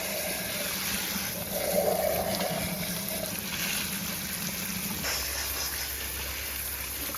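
Running water gushes steadily over freshly polished rocks just taken out of a two-week run in a rock tumbler, rinsing them clean; a close, continuous splashing wash with slight swells in strength.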